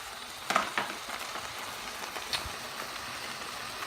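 Quorn mince cooks in a pan with a low, continuous sizzle, marked by a couple of sharp spatula knocks near the start and another toward the middle, close by and without talk.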